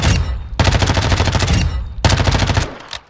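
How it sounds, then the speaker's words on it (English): Two loud bursts of MP5 submachine gun fire from Call of Duty MWII during a recoil test, each a rapid stream of shots lasting over a second, separated by a short pause, close and alone with no talk. "Let's go ahead and do a quick recoil test just on the MP5."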